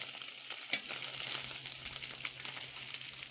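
Tofu pieces fry in a lightly oiled non-stick pan on low heat, a steady close sizzle with a few crackling pops and one brief clatter as they are turned.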